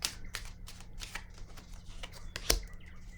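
Tarot cards being shuffled and drawn, a series of quick papery riffles and flicks with a sharp snap near the end, close and fairly quiet.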